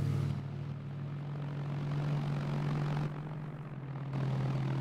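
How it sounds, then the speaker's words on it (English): In the Arma 3 video game, a propeller aircraft taxis down the airfield with a steady engine drone that dips briefly and then returns, heard close and alone without talking. "That is just literally taxiing down the airfield."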